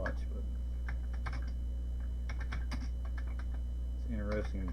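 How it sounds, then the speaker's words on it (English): Quick, steady keystrokes on a Commodore 64 keyboard while a BASIC program is typed in, close and continuous under a constant electrical hum, with a brief voice near the end. "I'm just kind of typing it very quickly"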